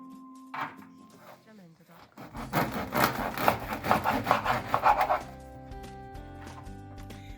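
A knife saws through a loaf of bread, cutting slices for baked torrijas, with a burst of rapid close sawing strokes in the middle while faint music plays.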